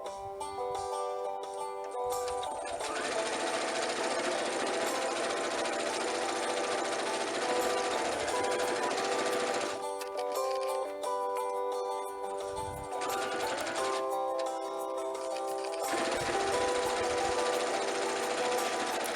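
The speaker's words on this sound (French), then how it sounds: "Maintenant, je passe à la machine à coudre." A sewing machine stitches a bath sheet onto a piece of towel fabric for a summer bag, running in long steady bursts with a couple of short pauses, close and loud.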